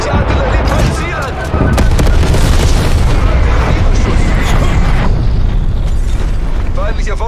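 Artillery and napalm strikes in Call of Duty: Black Ops Cold War multiplayer make loud, continuous booming explosions and rumbling blasts. They come thick and close, with brief in-game voice callouts underneath.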